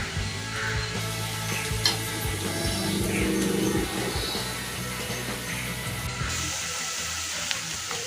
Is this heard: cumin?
yes